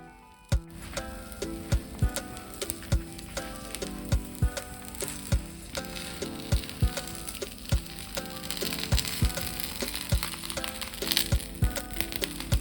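Chicken breast sizzles steadily in a hot pan, a continuous crackling fry with sharp pops and ticks spaced regularly across the clip, moderately loud and close.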